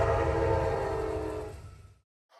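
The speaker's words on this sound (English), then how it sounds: "Here comes the train." A train rolls past in Centralia with a loud, steady rumble and a sustained horn tone, staying close and strong before fading and cutting off near the end.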